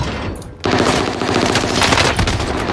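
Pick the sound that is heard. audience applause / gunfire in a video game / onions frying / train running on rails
gunfire in a video game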